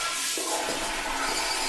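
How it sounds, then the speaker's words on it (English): A toilet flushes close up with a loud, continuous rushing gush of water that fills the whole moment. "Viviana, how many times have I told you not to flush your sketch paper?"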